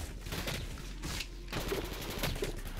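Rapid gunfire from the fastest gun in Roblox Jailbird, a fast, steady rattle of shots in quick bursts with a brief pause between them, fairly quiet and distant.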